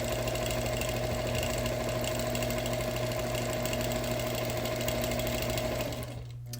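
Sewing machine quilting a wool quilt, running as a steady, fast mechanical whir with a continuous hum, alone and close, stopping abruptly near the end.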